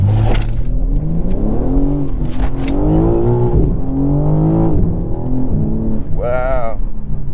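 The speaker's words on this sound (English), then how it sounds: "That was like half throttle and the rear end just came around beautifully." A 2023 BMW M3 Competition xDrive accelerates at half throttle with the rear end sliding, its engine note loud and close, rising and falling in pitch through gear changes and ending on a higher rev burst.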